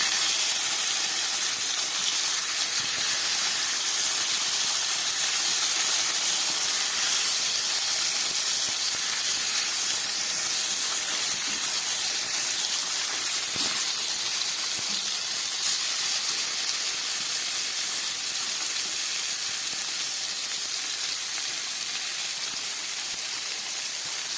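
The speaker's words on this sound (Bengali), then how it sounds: "এবারে আমি এই মশলা মাখানো মাছগুলো এর মধ্যে দিয়ে দিচ্ছি" Spice-coated fish sizzles in hot oil tempered with cumin seeds, making a loud, steady, close hiss that stays even for the whole stretch with no voices.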